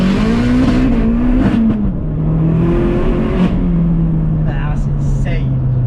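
A modified 552bhp Vauxhall Astra VXR pulls hard in second gear, its loud engine note rising and sweeping in pitch from inside the cabin, with people talking over the drone.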